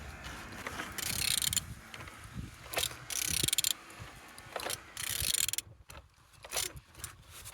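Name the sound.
Z18XER car engine being turned over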